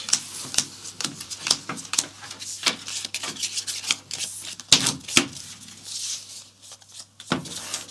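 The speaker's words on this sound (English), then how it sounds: "these get shuffled into your deck" Deck of Aventuria playing cards being shuffled, a run of rapid dry riffling and rubbing bursts at close range with short pauses between them, no talk over it.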